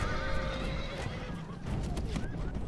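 Horses neigh and whinny loudly amid hoof clatter during a Rome: Total War battle recreating the Battle of Carrhae, with several overlapping calls over a steady battlefield din.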